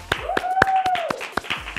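A few scattered hand claps ring out over a low murmur, while a sustained whistled tone rises and holds in the middle.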